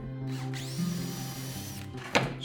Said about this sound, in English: And then I can put it on here and drill that one as well.